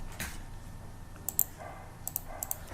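A username and password are typed on a computer keyboard. A brief run of light, quick key clicks sits close over a faint steady background hum.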